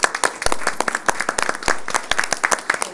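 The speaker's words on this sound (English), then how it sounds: "I would just like to stand and give you a round of applause for your year's service" A small council meeting room breaks into a round of applause for a retiring fire chief, many hands clapping in quick, uneven bursts at close range with no talk over it.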